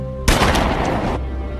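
A single loud, sharp gunshot from The Transporter film scene, a sudden blast that holds a booming roar for about a second before dropping back to low rumbling background.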